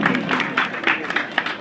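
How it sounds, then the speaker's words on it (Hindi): Applause from an audience at a parliamentary sports festival event in Kharsia, a dense, steady patter of clapping that holds for a moment, with a few louder bursts. "एक बार और जोर से तालियां उनके लिए।"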